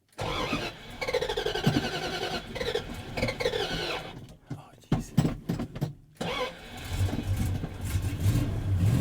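An old 1981 Dodge truck engine with an unset choke cranks and sputters, cutting out briefly with choppy bursts before catching and settling into a steady, rough idle.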